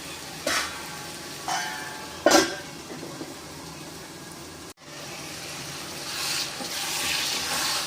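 Chicken liver simmering in a thick masala gravy, with a steady soft sizzle and bubbling broken by a few scraping spoon strokes, heard close with no talk.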